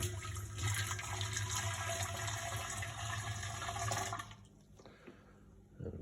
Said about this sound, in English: Just going to pour it straight into the little keg to start with.